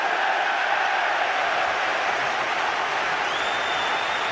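A huge football crowd at Anfield roars and cheers in one continuous, dense wall of noise, steady and loud throughout, with a faint rising whistle near the end.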